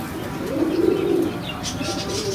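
Blue kamangar kasni pigeon cooing close by, a single soft rolling coo followed by quieter rustling and faint chirps.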